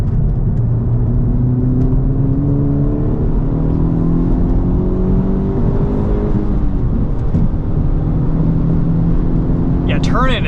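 A 2023 Honda Civic Type R with its front resonator removed drives on track, its engine droning loudly and continuously with rising and falling revs, and someone talks over it throughout.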